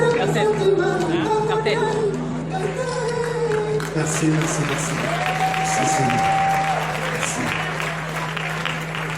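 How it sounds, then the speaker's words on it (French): A crowd applauds during a Miss DR Congo beauty pageant final, with sustained clapping running under music and a steady hum, while a voice and a brief whistle-like tone come through partway. "on applaudit Ferrecola et ses dames"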